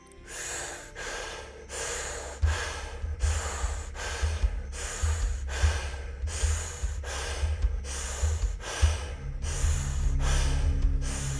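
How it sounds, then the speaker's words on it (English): Deep, forceful breathing during a breathwork exercise, with about a dozen rhythmic breaths close to the microphone, each a loud rushing inhale or exhale, evenly paced over soft low music. "So as you breathe in this way, keep that breathing constant"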